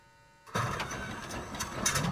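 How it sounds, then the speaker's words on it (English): A P-51D Mustang's Merlin engine in Microsoft Flight Simulator starts abruptly after silence, settling into a steady, close, loud mechanical rumble. "our lovely Merlin engine roars into life"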